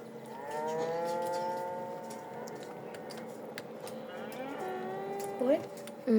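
Cows mooing in the Wobbly Life video game, several long, drawn-out moos that overlap and bend in pitch, fairly loud and near, with a couple of short sharp sounds near the end.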